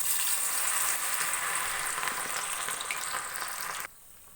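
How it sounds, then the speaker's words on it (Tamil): Steady loud sizzling of battered cauliflower frying in hot oil, a dense crackling hiss that drops off abruptly near the end. "இப்போ நம்ம பொரிக்க ஆரம்பிச்சிடலாம்."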